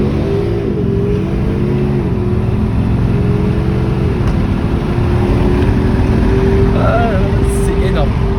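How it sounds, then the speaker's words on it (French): A Mercedes A200 diesel car drones steadily with a loud engine and exhaust hum and slight rises in revs, with a few faint pops near the end as someone talks over it. "quand je fais popper la voiture"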